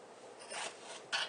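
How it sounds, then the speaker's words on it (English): A knife slices peppers for a Philly beef and Swiss cheesesteak, two short crisp rasping cuts, close and quiet, the second sharper and brighter. "Right now I'm going to cut the peppers"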